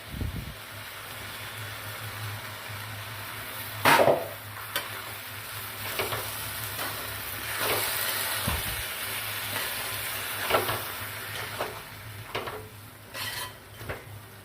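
Tomato puree for cabbage moong dal curry frying quietly in a pan, a low, steady sizzle with occasional scrapes and clinks of a stirring spoon.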